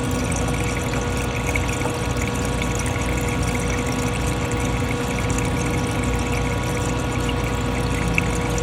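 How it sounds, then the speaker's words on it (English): An ALFe 3.5 induction heating unit circulates a glycol antifreeze mixture through a clear hose, giving a steady, continuous pump hum with a faint watery trickle, close and unchanging throughout. "We should start to see the water flow through the clear hose and come right back down."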